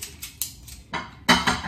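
Dishes and pans are placed into a dishwasher during house cleaning, a series of close, sharp clinks and clatters at irregular intervals, the loudest knocks coming near the end, with no talk.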